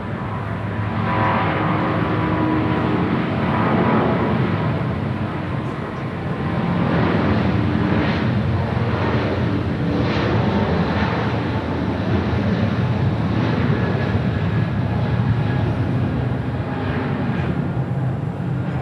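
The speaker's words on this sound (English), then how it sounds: "got the United 777 now rolling down 25 right" United Boeing 777 jet rolling down runway 25 right at Los Angeles International Airport, a loud, steady broadband engine roar that holds throughout with slight swells, heard from a distance across the airfield.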